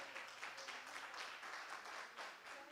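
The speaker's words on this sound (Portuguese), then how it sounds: "pode aplaudir a Jesus" A church congregation applauds to Jesus, producing faint, distant clapping that rises and falls in soft pulsing waves, with a low steady hum beneath.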